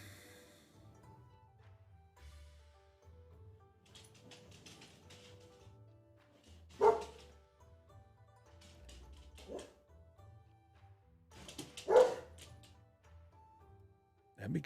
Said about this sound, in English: It's the attack of the doggies.